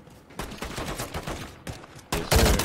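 Pistol gunfire in the video game Modern Warfare 3, a rapid string of sharp, loud shots in bursts with brief gaps, ending in a heavier blast.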